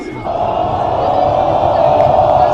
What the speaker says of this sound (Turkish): En çok sevdiğim tezahürat bu